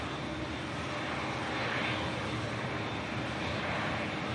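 A TUI Boeing 787 Dreamliner taxiing at Manchester Airport gives off a steady broadband engine rumble and hiss that holds nearly level for the whole stretch, swelling slightly midway, with no voices.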